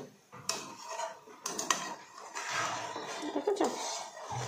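Ghee being stirred in a pot, with soft intermittent scraping and clinking of a utensil against metal, close and fairly quiet, with no voices.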